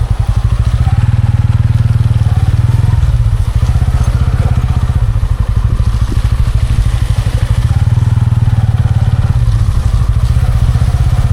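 A motorcycle rides along a village road, its engine thrumming steadily close by with loose rattles and bumps from the ride, no talk.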